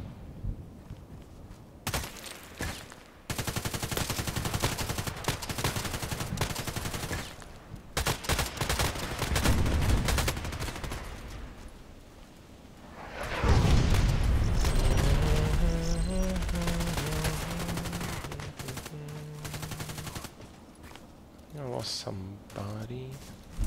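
Sniper rifle fire in a video game: a series of sharp, loud shots, with game sound effects and background noise around them and talk over parts of it.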